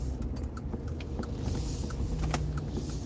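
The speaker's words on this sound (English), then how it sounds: "Sorry, I'm out here driving today." A car being driven, heard from inside: a steady low engine and road rumble with scattered light clicks and rattles throughout, and no voices.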